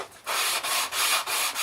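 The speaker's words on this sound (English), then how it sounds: "sand it by hand, believe it or not." Hand sanding the edge of an edge-lit sign at about 125 grit, several even back-and-forth strokes with rhythmic rasping and short pauses between passes, close and clear with no talking.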